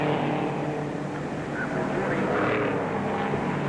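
Race cars at the 1970 Hoosier 100 roar past in a continuous, loud engine drone that swells slightly as they sweep by, with no voices over it.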